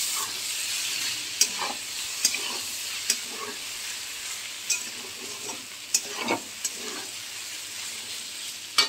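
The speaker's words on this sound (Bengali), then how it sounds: "দিয়ে আমি ভালো করে নাড়াবো।" Chowmein is tossed in a pan with fried egg and potato: a constant sizzle and hiss under repeated sharp spatula clacks and scrapes, close and fairly loud.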